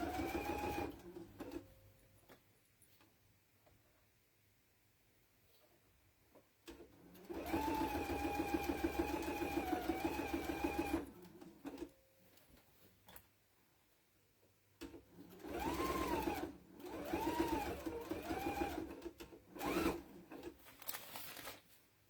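Epic 2 sewing machine stitching a tea towel at about a 2.5-width, 3-step stitch, running in three bursts of steady buzzing with pauses between, close and alone.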